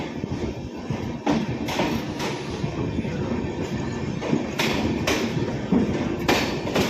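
The Uttar Banga Express pulls out of Bolpur Shantiniketan station, loud rolling rumble from the carriage with rhythmic wheel clacks over rail joints recurring every second or so.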